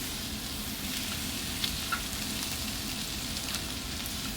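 Ginger garlic paste fries with onions and green chilies in a pan for duck roast, giving a continuous soft sizzle with a few small pops and clicks.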